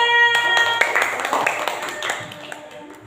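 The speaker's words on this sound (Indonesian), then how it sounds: "Tepuk tangan." Students in a school classroom give a brief burst of clapping, with scattered hand claps and taps fading under talk and background noise.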